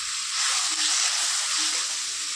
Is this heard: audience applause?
no